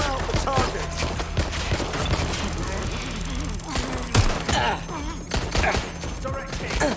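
Gunfire in the video game Watch Dogs Legion, with dense bursts of shots and impacts over a busy game mix while voices talk over the action.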